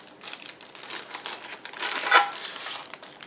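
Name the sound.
unpacking a box, crinkling packaging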